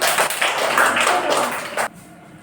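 Schoolchildren clap their hands together in a classroom alphabet game, a loud, ragged burst of clapping that stops abruptly, leaving quiet room tone.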